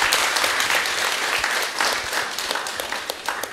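An audience claps for guests at a talk on organic food and traditional rice, dense steady applause filling the room for several seconds, close and even, with no voices over it.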